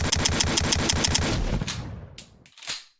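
Rapid automatic gunfire in an in-development video game, a loud steady burst of evenly spaced shots fading out, followed by a couple of single echoing reports.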